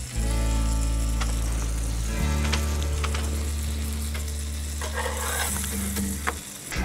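Slices of bread fry in a pan, a loud, continuous sizzle close by, with a low hum underneath and brief clatter as pieces are turned.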